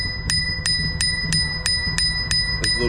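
A bright e-bike handlebar bell on a Jetson Bolt Pro rings in a steady series of about eight quick dings, evenly spaced, over a low background rumble.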